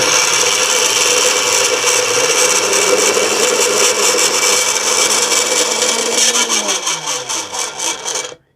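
A Sunbeam blender motor, just repaired after a worn drive coupling, runs loud and close with a steady whirring roar, then its pitch drops as it spins down and stops.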